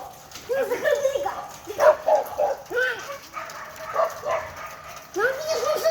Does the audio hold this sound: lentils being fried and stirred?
no